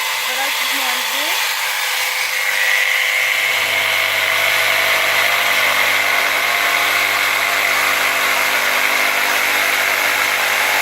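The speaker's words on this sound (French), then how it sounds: "on va déjà faire 100 à une vitesse relativement élevée." A Würth jigsaw runs at relatively high speed, starting with a steady loud whine, then settling into a dense, continuous buzzing roar as the blade cuts, close up and sustained throughout.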